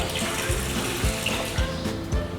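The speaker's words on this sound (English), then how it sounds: "This is where children can see the water flowing." Water splashes and trickles steadily down a children's outdoor water play wall at a school, with a continuous gurgling stream and a few louder sloshes recurring roughly every half second, close and without talk.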